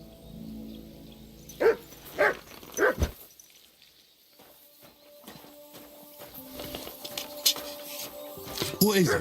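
Mutt, a dog in the video game Kingdom Come Deliverance 2, gives a few loud, separate barks early on, followed by hoof clip-clop, footsteps and game ambience, with a voice speaking near the end.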